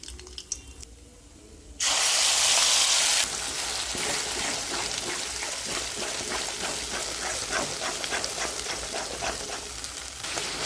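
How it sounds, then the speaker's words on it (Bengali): Whole garam masala spices hit hot oil with a sudden loud hiss, then settle into a steady, dense sizzle and crackle that continues close up, with no talking. "এবার তেল গরম হয়েছে, গোটা গরম মশলা দিয়ে দেবো।"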